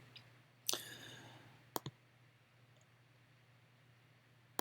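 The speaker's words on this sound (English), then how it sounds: "So we can click on it, which will play it." A computer mouse clicks while a song is being chosen to buy in Apple Music: a sharp click, then a quick double click a second later, each close and distinct against a faint, steady background hum.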